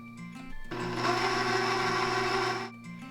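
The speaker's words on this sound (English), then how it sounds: "I'm going to gradually add my flour mixture to the mixer while it's running" Electric stand mixer whirring steadily as it beats carrot cake batter with grated carrot, milk and lemon juice, running loud and close for about two seconds before stopping, with quieter mechanical hum on either side.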